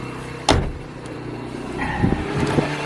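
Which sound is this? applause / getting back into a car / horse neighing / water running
getting back into a car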